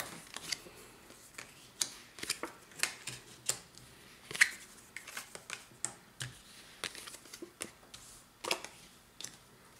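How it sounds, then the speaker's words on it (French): Cards drawn one after another from a board game deck, a run of small, crisp snaps and taps spread irregularly through a quiet room with no talk. "nous allons sortir maintenant 5 cartes."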